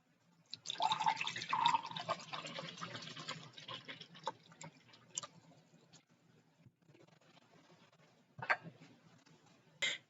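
Water poured for tea, trickling and splashing in a steady stream for about four seconds, then fading to a faint dribble, with a short final splash near the end.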